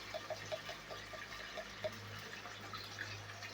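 A little water pours into a cooking pan ahead of ground spices, a faint trickling with soft bubbly drips over a low steady hum, close and quiet, no voices.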